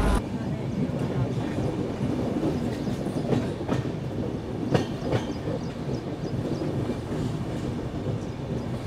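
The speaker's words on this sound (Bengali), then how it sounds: "আমাদের ট্রেন এই মুহূর্তে 874 কিলোমিটারের যাত্রাপথ সম্পূর্ণ করে অযোধ্যা ধাম জাংশনে এসে পৌঁছালো" The 13151 Jammu Tawi Express on its Kolkata-to-Jammu run rolls along the rails with a steady, close rumble and a rhythmic clickety-clack of wheels over rail joints, plus occasional louder knocks and a breathy wind noise.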